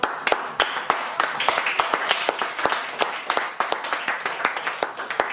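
A concert audience in Nice claps, with dense overlapping handclaps in a steady, fairly close burst that carries through the whole stretch without voices.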